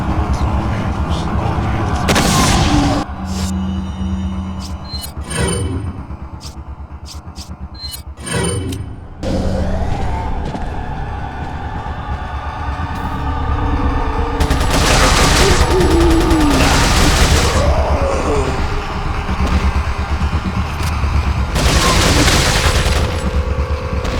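Flashbang blast and gunfire in the horror action game Resident Evil 4, heard as loud bursts of shots and booms layered over a constant, dense roar of game sound, with a few brief voice sounds.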